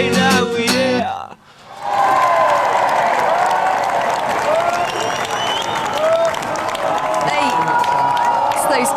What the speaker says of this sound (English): those 10 fans from Huddersfield have come down to the studio to give you a round of applause there